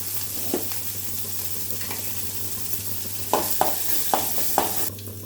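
Steady sizzling of dried red chillies, garlic and asafoetida frying in hot oil to temper rasam, with a few sharp pops and clinks of stirring near the end.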